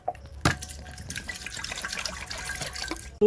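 Water pours into a rice cooking pot, a steady splashing stream with a sharp knock near the start, heard close and alone with no talking.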